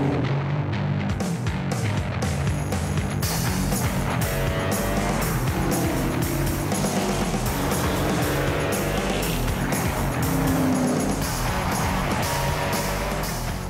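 Race cars driven hard on the Road Atlanta circuit, with engines roaring loud and close for the whole stretch, rising and falling through the gears as the cars pass. A few tire squeals cut through, and nobody speaks.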